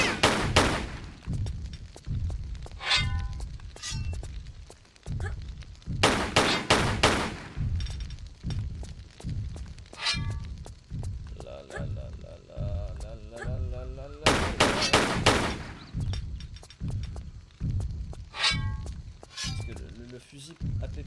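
Rapid, steady shotgun blasts in Tomb Raider 3, dozens of loud close booms repeating about every half second with brief bursts of other gunfire, and someone talking over them.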